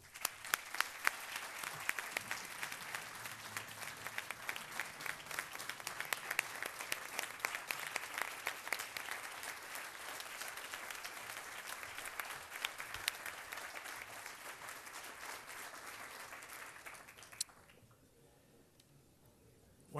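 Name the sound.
audience applause at awards ceremony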